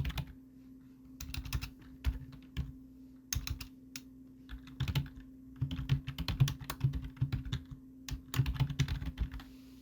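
Typing text on a computer keyboard in short irregular bursts of close, crisp key clicks with brief pauses between, over a steady low hum and no voices.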